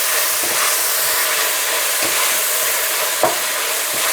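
Bacon frying in a pan, a steady loud sizzle and crackle throughout, with a few soft scraping stirs at intervals and no voices.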